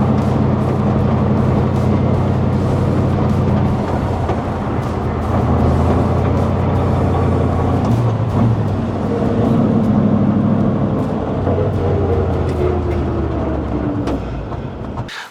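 A 1941 Ford F-100 custom pickup with a 289 V8 rumbles steadily on a test drive, its low engine drone and road noise loud and continuous throughout, easing off at the very end.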